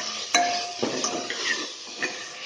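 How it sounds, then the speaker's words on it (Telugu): Onions and tomatoes frying in a pan for sambar, with metallic clinks and scrapes of a ladle against the pan over a steady low sizzle, close by. "టమాటా కూడా వేసుకుని ఫ్రై చేసుకోవాలి."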